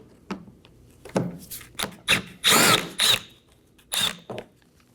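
A power tool backs out a 7mm bumper screw on a 2018-2024 Chevrolet Equinox, heard as short close whirring bursts of varying length with brief pauses between them.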